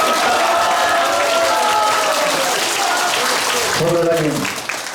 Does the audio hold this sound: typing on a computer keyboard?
no